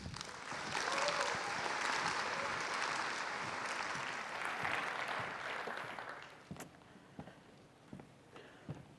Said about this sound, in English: So if we could have a very large round of applause for Emily, please, everybody.